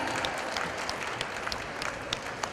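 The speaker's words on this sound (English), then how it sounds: "Can we have a round of applause for him?" A round of applause at a book launch event for a publisher's representative, steady clapping from an indoor audience throughout, moderately quiet with scattered sharper claps.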